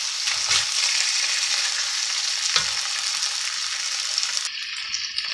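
Beef stir fry sizzling in a hot wok on high heat, a steady bright hiss of frying with a couple of soft scraping stirs, close and continuous before the sizzle drops lower near the end.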